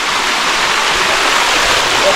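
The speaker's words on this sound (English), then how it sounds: "This is the mini fall." Close, loud, continuous rush of a small waterfall, steady broadband splashing flow with no pauses.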